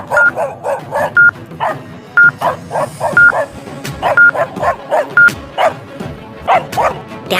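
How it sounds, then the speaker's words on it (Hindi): Pack of wild dogs barking in rapid repeated bursts with yips and whimpers, loud and close with no talking. "ब्रेवो के पीछे बहुत सारे जंगली कुत्ते लगे हुए थे।"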